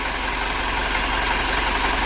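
Mitsubishi Pajero Sport Dakar 2012 engine, freshly rebuilt, idling steadily while warming up, a constant close, even rumble with a fine regular pulse and no voices over it.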